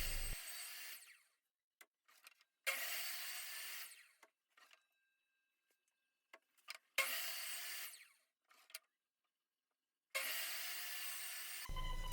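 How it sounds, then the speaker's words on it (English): Table saw set at 30 degrees cutting angled boards for a hexagon shelf, with four separate bursts of whining blade noise through wood, separated by quiet gaps with small clunks as boards are repositioned. "I set the angle of my table saw to 30 degrees"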